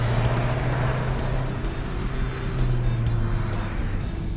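A hot hatchback, compared with a Mazdaspeed3, is driven with a steady engine drone and road and wind noise heard from inside the cabin, close and continuous, with no talking.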